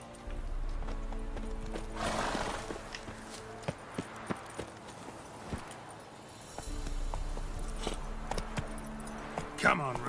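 Hooves of Roach, Geralt's horse in The Witcher 3, clop in a steady trotting rhythm over low game ambience, with tack jingling and a short snort near the end.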